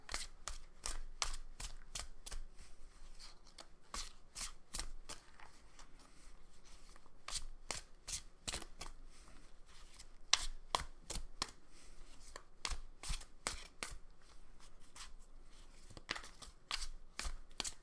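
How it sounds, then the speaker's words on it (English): Tarot cards being shuffled close up, a steady run of crisp riffling and flicking snaps repeating quickly over a quiet background. "Give it a good shuffle for the camera"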